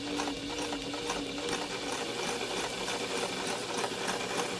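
A sewing machine runs continuously at a steady fast rhythm, stitching across fabric and a pin on a small chicken pin cushion, a close, even mechanical whir with no voices.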